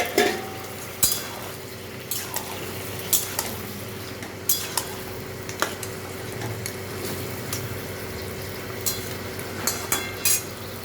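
Fried fish heads going into a pan for a Bengali chochchori, with repeated sharp clinks and scrapes of a utensil against the pan over a low steady cooking hum, close and fairly quiet.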